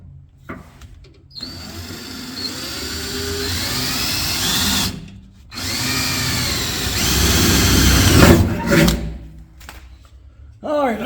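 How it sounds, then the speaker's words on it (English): Power drill boring a new hole through rotten metal on a homemade fuel tank for a 1940 Chevy coupe, running in long steady bursts with pauses between, close up, with someone talking at times. "So I got to try to drill a new hole, approximately right in this area here."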